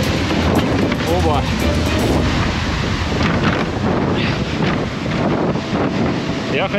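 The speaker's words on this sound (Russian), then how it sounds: "Ветром просто тащит." Strong hurricane-force wind in Melbourne batters the microphone in loud, continuous roaring gusts with rumbling buffeting throughout, and a voice is faintly audible beneath it.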